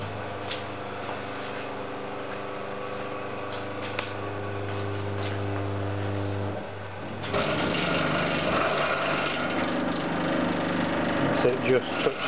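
Steel wheel spun by a motor rubs against its drive, a steady mechanical hum with rhythmic grinding that turns rougher and louder partway through, with a voice talking over it.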